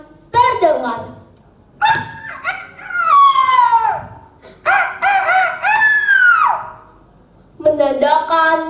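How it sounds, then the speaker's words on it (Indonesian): A rooster crows several times in long, rising and falling calls, loud and close, separated by short quiet gaps. "Suara kokok ayam mulai terdengar."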